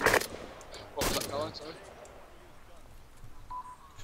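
Two sharp bursts of rapid gunfire crack out in the Arma 2 video game, one at the very start and another about a second later. Voices talk over the shooting and the quieter stretch that follows.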